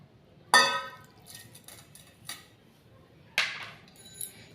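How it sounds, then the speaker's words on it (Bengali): A spoon clinks sharply against a bowl while milk is mixed into palm cake batter, with a few loud knocks and softer scraping taps in between, near and otherwise quiet. "ভালো করে মিশিয়ে নিচ্ছি"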